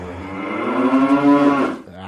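A cow on a farm gives one long, drawn-out moo that rises and then fades, close and loud, with faint background noise around it.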